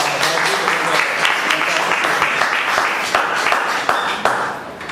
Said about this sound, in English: let us at least give a big round of applause to our